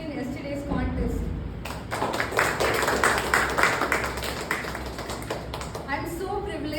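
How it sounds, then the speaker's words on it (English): Applause from members at a Toastmasters club meeting, a burst of clapping that swells briefly at middle distance and fades, with someone speaking before and after it. "can we all extend our applause to other role players who has participated in yesterday's contest"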